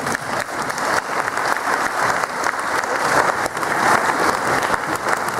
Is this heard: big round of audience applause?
yes